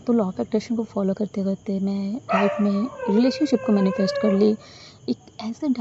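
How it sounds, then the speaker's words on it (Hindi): A dog barks and yips repeatedly in the background, bursts scattered throughout, partly masked by someone talking steadily close to the microphone. "कुत्ता बहुत भौंक रहा है"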